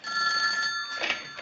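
An old-fashioned telephone bell rings in a 1970s crime drama scene, a single bright, loud trill with a short burst trailing off.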